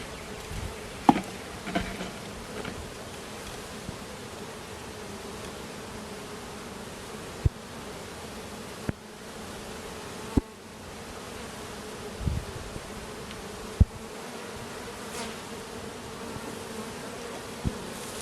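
Honeybees hum in a steady, close buzz while a hive is opened and frames are inspected, with a few sharp clicks and knocks from handling the equipment and occasional individual bees droning past.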